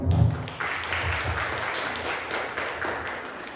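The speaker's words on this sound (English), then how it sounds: "please give yourselves a round of applause." An audience at a Women's Day health event gives a round of applause, many hands clapping in a steady, moderately loud burst that holds for several seconds.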